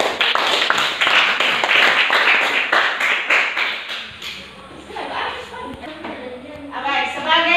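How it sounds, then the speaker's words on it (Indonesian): A class clapping their hands together in a classroom, brisk rhythmic claps for about four seconds, then fading into voices and chatter. "Tepuk tangan dulu untuk"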